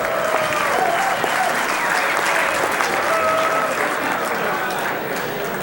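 A banquet crowd at the 2003 Conn Smythe Dinner applauds wrestler Trish Stratus, loud sustained clapping filling the room with faint cheers and whistles mixed in.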